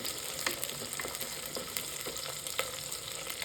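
Onions and garlic sizzle and crackle in a hot clay pot, with scattered pops and occasional stirring scrapes over a steady frying hiss, fairly quiet.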